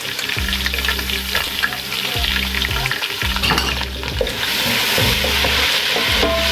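Ginger, garlic and onions fry in hot oil in a pan for a curry pakora (kadhi pakora), giving a steady close sizzle with repeated stirring scrapes throughout.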